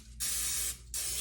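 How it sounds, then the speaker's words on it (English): Cooking spray hissing from an aerosol can onto loaf pans for banana nut bread, two steady sustained bursts with a short pause between them. "spray the pans real good"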